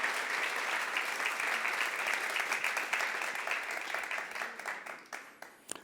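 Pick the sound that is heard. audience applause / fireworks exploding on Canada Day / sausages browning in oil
audience applause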